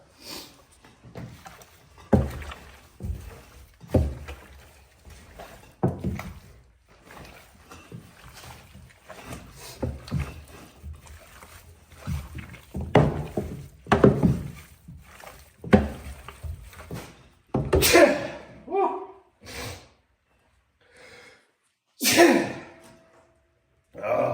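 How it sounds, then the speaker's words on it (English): A paddle stirs ground wild hog sausage meat and seasoning, making wet, squelching, slapping strokes in an irregular rhythm, close and moderately loud, with a few sharper thuds later. "All right, I'm gonna mix this up a little bit. Got my handy dandy paddle."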